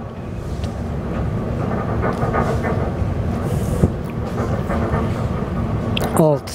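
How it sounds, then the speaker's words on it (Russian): An old ER2K electric commuter train runs with a steady, loud broadband rumble and a low mechanical hum throughout, with a brief clank near the middle and a short rising squeal near the end. "Олдскульная электричка."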